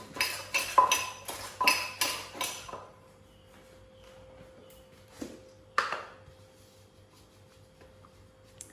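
A pestle pounds a spicy Thai papaya-style salad with squid and Ovaltine powder in a mortar: a quick run of about eight rhythmic, clattering knocks, a quiet pause, then two more isolated thuds. No one talks.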